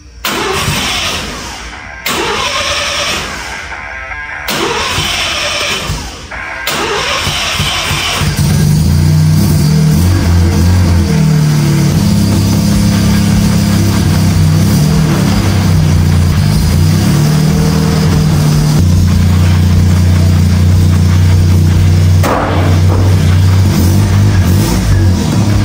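A Mazda RX-7 rotary engine cranks in a few loud bursts, catches, and then settles into a steady, loud, close idle that runs continuously.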